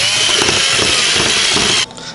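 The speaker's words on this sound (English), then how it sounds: "So if I can get this drill bit through now." A drill bit bores through a metal full-size training sword with a steady, loud, grinding whir that runs continuously for nearly two seconds, then cuts off abruptly as it breaks through.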